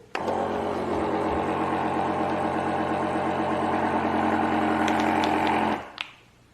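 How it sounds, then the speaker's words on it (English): A Bunsen V12 Deluxe food vacuum sealer on its moist setting runs with a steady motorized hum and fast pulsing rhythm for several seconds, then cuts off abruptly with a short click. "So I'm going to switch it over to moist and then vacuum sealed."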